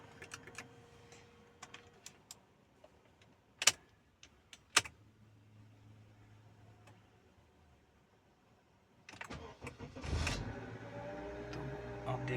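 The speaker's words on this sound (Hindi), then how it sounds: "तो आप देख सकते हैं और सुन सकते हैं आवाज़ कि गाड़ी स्टार्ट हो चुकी है।" A car engine cranks and catches after sitting two days, beginning around the ninth second with a rising rumble that settles into a steady idle, preceded by quiet clicks, key jingles and handling noises nearby.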